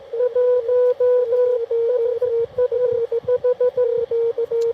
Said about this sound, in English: This is Morse code.